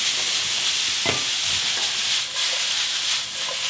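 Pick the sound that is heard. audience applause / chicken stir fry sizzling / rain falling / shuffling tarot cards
chicken stir fry sizzling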